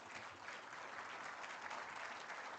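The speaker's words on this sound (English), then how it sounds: "Why don't you give yourself a big clap?" Audience applause at a Goa Institute of Management alumni gathering during a centenary celebration, a steady, dense wash of many hands clapping, fairly faint and even throughout with no voices.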